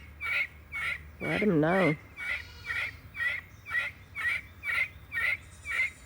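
Guinea fowl give a steady series of harsh, rhythmic calls at close range, interrupted once by a brief wavering squawk, with a short spoken remark.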